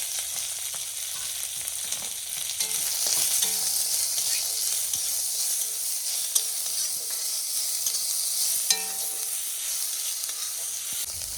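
Curry leaves, bay leaf and onion sizzle steadily in hot oil for a malai curry, a constant hiss with a few sharp crackles and pops along the way, no one talking.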